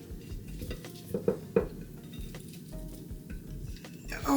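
Curry goat is stirred in a pot, faint scraping and a few sharper spoon knocks against the metal over a quiet, low sizzle, close and without speech.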